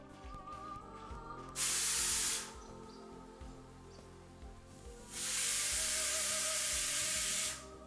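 Fries frying in hot oil: two strong bursts of bright sizzling hiss, a short one and then a longer one, over a faint bubbling background.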